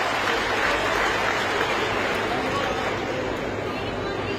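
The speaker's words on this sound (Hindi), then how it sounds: "इसलिए बच्चों एक ताली आप अपने लिए बजाइए" Children applaud together in a dense, steady burst of clapping at a government event in Himachal Pradesh, loud and continuous throughout with no gaps.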